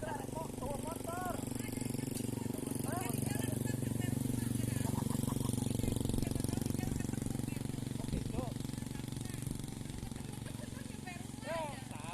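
A motorcycle engine runs with a steady low drone throughout, under people chatting nearby in a residential housing area.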